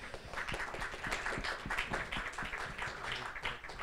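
A small audience claps steadily in a quick, dense patter, moderately close and fairly quiet, with no voices over it.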